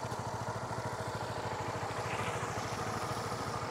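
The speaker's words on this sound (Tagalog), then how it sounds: "Honda K56 engine" A five-year-old Honda Supra GTR 150 motorcycle with a K56 engine runs steadily at idle, its even pulsing putter close and continuous with no talk over it.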